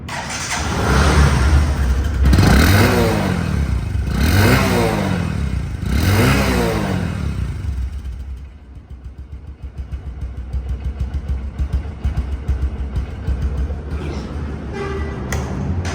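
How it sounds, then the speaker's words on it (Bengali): A Discover 125 cc motorcycle engine revs in three strong rising bursts, then settles into a steady, loud idle close by, with no talking. "বাইকটির সাউন্ড কোয়ালিটি শুনুন"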